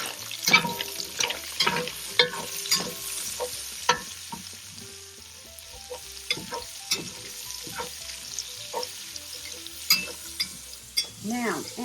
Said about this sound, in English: add in our garlic and thinly chopped Thai chilies and our sliced yellow onions to this mix